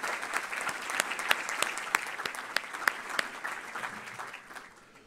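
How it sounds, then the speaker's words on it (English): Audience at a civic club event applauds sponsors, many close individual hand claps standing out from a steady crowd clatter that fades toward the end. "Round of applause for all of our sponsors, supporters, and for all of you for being here."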